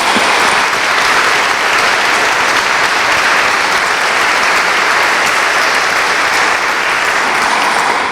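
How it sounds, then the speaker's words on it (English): A literary award event audience gives a sustained, even round of applause for the helpers who brought in books, dense and loud with no breaks throughout. "So let's just give a hand clap to those folks."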